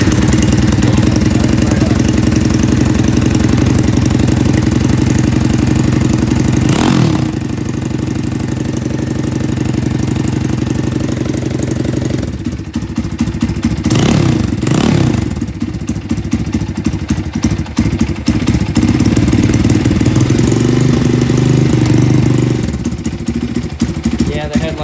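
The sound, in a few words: Honda CT70 motorcycle engine starting and idling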